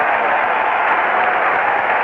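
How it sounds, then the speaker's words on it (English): A stadium crowd at a St. Louis Cardinals World Series game gives a standing ovation, a sustained, even wash of applause and crowd roar that stays loud and unbroken from start to finish. "Once again, a standing ovation."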